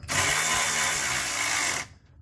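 A power tool runs in one steady, close burst of just under two seconds while tightening valve cover bolts on a BMW N52 engine of an E90, then stops abruptly.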